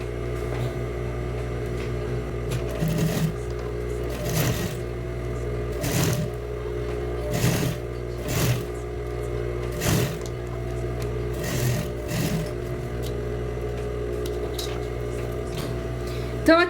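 A sewing machine runs a second seam on a child's dress. It stitches in short repeated bursts with brief pauses between runs, over a steady low motor hum.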